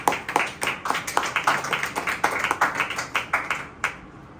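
A church congregation claps hands in praise, a steady rhythmic beat of sharp, fairly loud claps in unison that keeps going for several seconds before stopping abruptly.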